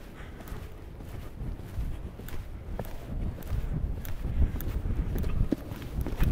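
A horse's hooves thud steadily on soft arena footing as it shifts into a trot during a show-jumping warm-up, a low, continuous rhythm of muffled beats that stays fairly faint.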